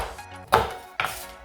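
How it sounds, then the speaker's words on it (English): A knife chopping ingredients for keto peanut butter cups into small pieces on a cutting board: two crisp, close chops about half a second apart. "So what we wanna do is just chop it to small pieces, like that."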